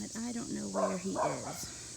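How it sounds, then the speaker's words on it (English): Dogs bark in a backyard garden at the end of summer, several yips and barks close by under a voice as she talks. "Excuse the dogs."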